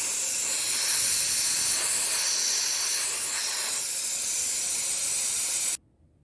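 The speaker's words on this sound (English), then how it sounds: "you can back down on the set screw here, and it will keep on giving a fine mist" A mist cooler sprays fine coolant mist onto an end mill setup, a steady close broadband hiss that holds evenly for nearly six seconds and then cuts off abruptly into silence.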